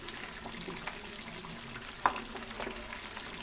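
Chicken fries in a hot pan with a steady, quiet sizzle and soft crackling throughout, broken once by a single brief clink.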